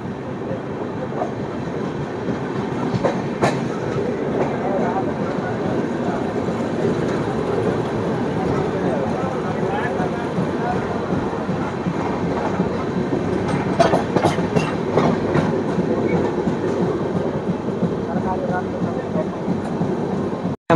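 Passenger express train running through Bihar, a steady rumble and clatter of wheels on rails filling the whole stretch, loud and continuous from inside the carriage, with faint voices in the background.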